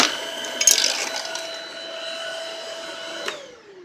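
A Shark Rocket vacuum cleaner with its power head runs close by, a loud steady motor whine with a short rattling burst of debris being sucked up near the start.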